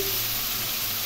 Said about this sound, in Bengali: এখন এর মধ্যে পেস্ট করে রাখা টমেটো এবং কাঁচা লঙ্কা পেস্ট দিয়ে দিলাম।